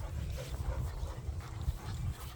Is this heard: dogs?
yes